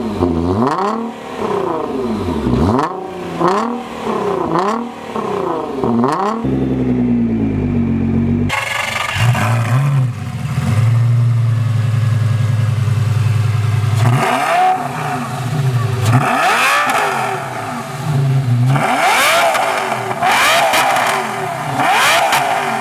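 High-revving sports car engine, a Nissan GTR or a V10 Lamborghini Gallardo with a very loud exhaust, climbing and falling through repeated throttle blips, then holding a sustained drone before more sharp revs, loud and close with no talking.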